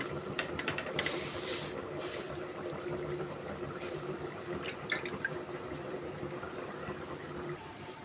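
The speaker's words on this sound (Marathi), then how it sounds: "आता ही बघा मी भाकरी टाकली तव्यावर आता मी लावते हिला पाणी" Water dabbed by hand onto a bhakri flatbread on a hot tava gives a steady soft hiss and sizzle, with a few brief splashy drips near the start and middle, close and fairly quiet.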